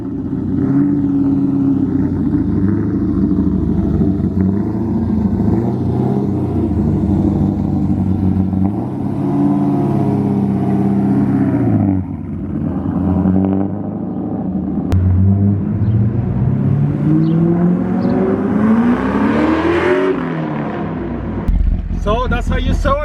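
A modified wide-body Corvette Z06 idles and then pulls away, its engine note rising in pitch toward the end, with someone talking over it throughout.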